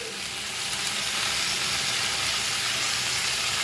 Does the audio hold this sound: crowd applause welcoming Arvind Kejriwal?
no